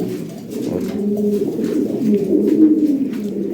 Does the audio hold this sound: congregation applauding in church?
no